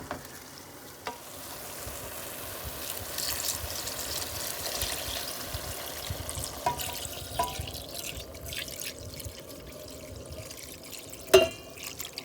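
Broth poured into a pot of rinsed French green lentils for lentil soup, a steady, fairly faint liquid rush with a few small splashes and clinks near the end, no talk.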